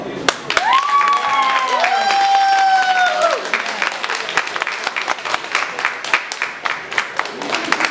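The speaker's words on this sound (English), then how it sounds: "I know you guys are clapping" Audience at a poetry reading clapping after a poem, a full crowd round of applause with some whoops and voices rising over it early, then continuing as steady, slightly thinning clapping.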